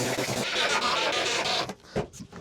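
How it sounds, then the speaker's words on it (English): Screws driven into wooden runners glued to a table-saw bowl blank, a dense whirring drive that runs steadily up close and then stops, followed by a few brief knocks. "I'm going to add 4 screws into each runner"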